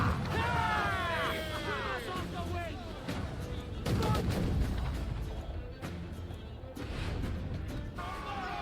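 Naval battle in Assassin's Creed IV with rapid cannon fire: repeated booming blasts and crashing impacts over loud, dense battle noise, while shouting voices and music carry on throughout.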